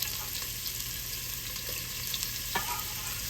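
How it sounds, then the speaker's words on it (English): Onions for a meat sauce fry in a pan, giving a soft, continuous sizzle under a low hum, with a few light clicks and one brief scrape of a utensil, with no talking. "We're going to put some onions in here and get these onions all."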